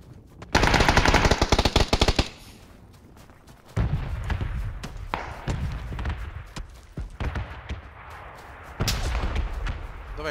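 Rapid automatic gunfire bursts in the battle royale video game PUBG, loud and close, with a long sustained volley followed by scattered shots and further bursts.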